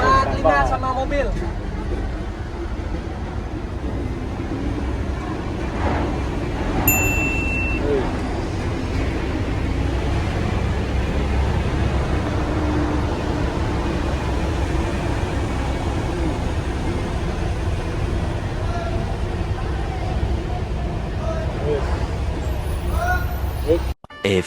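Vehicles, including a bus, drive onto a ferry sailing toward Bali, with a steady, loud low engine rumble filling the deck, a few faint tones, and a sharp cutoff at the end.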